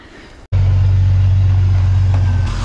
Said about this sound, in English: We are moving all the vehicles far, far away, out of harm's reach.